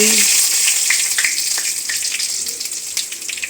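Mustard seeds, cumin and dried red chillies frying in hot oil, a loud steady sizzle with crackling pops close by, fading slightly.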